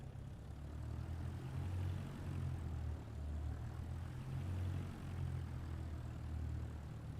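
A propeller aircraft engine drones steadily in Microsoft Flight Simulator 2024 while taxiing onto the runway, a loud low hum with a slight pulsing rise and fall throughout, with no talk.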